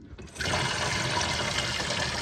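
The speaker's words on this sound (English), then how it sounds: "That's just the water coming through the pipe because we haven't used it for a while." Water gushes steadily and loudly through a long-unused pipe from a campervan kitchen tap, a constant rushing flow starting after a brief quiet moment.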